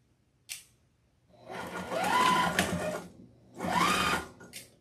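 A sewing machine stitching fabric runs in two bursts of steady mechanical whirring, near and loud, separated by a short pause, with no talk.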